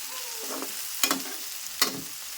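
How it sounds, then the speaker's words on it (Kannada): Green chillies frying in oil give a soft, steady sizzle, broken by two or three louder crackling bursts and stirring scrapes close by. "ಈ ರೀತಿ ಎಣ್ಣೆ ಒಳಗೆ ಫ್ರೈ ಮಾಡಕತ್ತೀನಿ ನಾನು"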